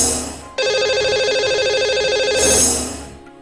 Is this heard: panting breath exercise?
no